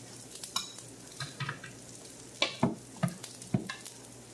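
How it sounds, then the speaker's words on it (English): Potato pancakes sizzle steadily in a frying pan, broken by several sharp scrapes and stirring clatters of a utensil against the pan. "You ever walk into a place and they're starting to cook and you hear the sizzle?"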